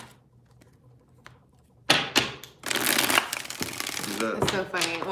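Tarot cards are shuffled over several passes, a dense papery riffling and slapping that starts after a quiet lead-in and runs close and fairly loud, with a voice speaking over the later part.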